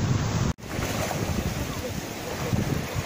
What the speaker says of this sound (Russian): Ветер чуть-чуть прохладный, не самый комфортный.